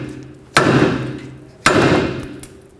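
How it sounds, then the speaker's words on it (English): Two heavy, ringing hammer blows land on the steel steering knuckle of a 2003-2021 Chevrolet Express to free the lower ball joint, each a sharp metallic impact about a second apart that decays slowly, loud and close. "And then with a hammer the knuckle right here. That should break this free"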